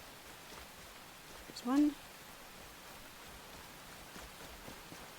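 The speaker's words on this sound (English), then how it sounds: "It's raining." Steady rain falls in the survival video game Enshrouded, a soft, even hiss running through the whole stretch beneath someone talking, with one brief louder voice burst.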